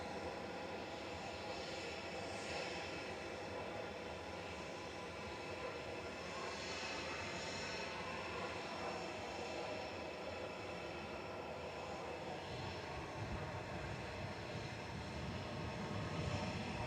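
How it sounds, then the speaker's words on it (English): A KLM Boeing 777 airliner passes overhead near Manchester Airport, its engines giving a steady, broad, distant roar that holds evenly throughout with no voices. "It's a KLM 777 flying over us from Panama City."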